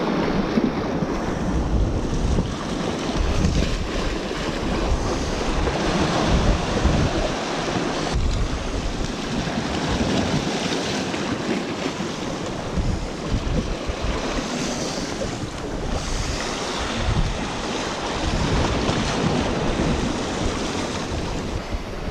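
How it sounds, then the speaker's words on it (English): Breeze at the seashore buffets the microphone in a loud, continuous rush, with waves washing and surging steadily underneath throughout, alone and with no talk. "I've got a bit of a breeze, but yeah, nothing too major."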